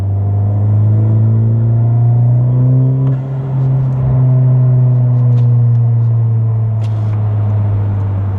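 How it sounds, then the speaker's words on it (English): Modified Honda Civic Type R FL5 with an upgraded exhaust, heard from outside as a loud, deep rumbling drone that swells and falls as the engine revs rise and ease. "give you some exhaust clips"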